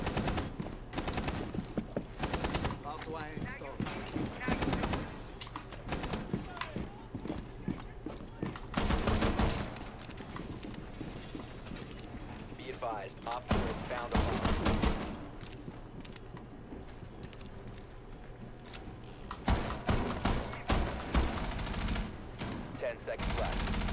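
Shotgun blasts in a competitive multiplayer shooter, repeated heavy reports mixed with other gunfire and clatter, loud and close throughout, with occasional speech in the background.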